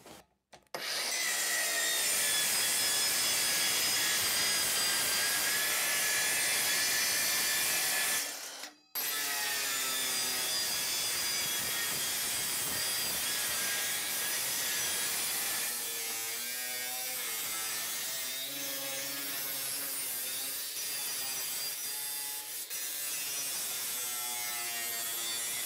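A Bosch GKM 18V-50 cordless metal circular saw cuts sheet steel with a loud, sustained high whine. It stops briefly, then whirs back up, and a ringing, grinding cut carries on to the end.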